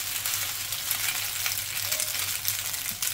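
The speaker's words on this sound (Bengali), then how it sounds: "এখন আমি পাস্তাটা দিয়ে দিব, ঠিক আছে? যতক্ষণ না হয় ততক্ষণ আমি এটা নাড়তে থাকবো" Pasta stirred in a frying pan, a steady broadband sizzle running continuously at close range with soft scraping of the stirring mixed in, no voices.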